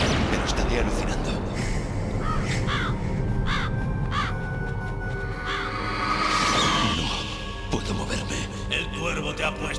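Crows caw repeatedly in Metal Gear Solid, sharp calls rising over a dense, rumbling game soundscape with steady low noise throughout.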